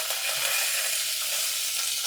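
Handful of coriander leaves dropped into a hot pan with cashews in a brinjal stir-fry, giving a soft, steady sizzle with light stirring, faint and close, no talking.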